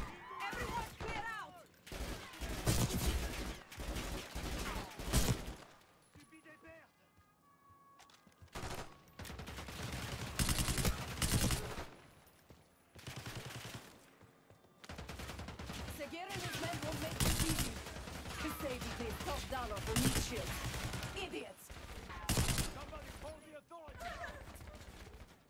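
Gunfire in the video game Call of Duty Black Ops 6 comes in loud bursts and rapid volleys, broken by short quiet gaps, with game dialogue and voices mixed in between the shots.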